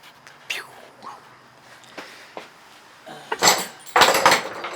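Metal workshop clamps picked up and handled while working on a knife, giving clinking, clattering knocks and rattles that grow louder and denser toward the end, with scattered quiet sounds before.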